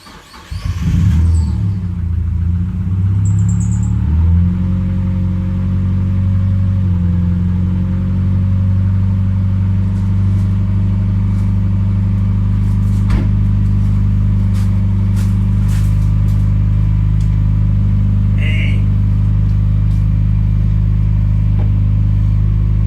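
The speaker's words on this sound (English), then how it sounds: "If it starts, I'm going to try let it idle for a bit" Supercharged Mazda MX5 engine turning over and catching within the first second or two, then settling into a loud, steady idle with a deep drone that runs close and unbroken to the end.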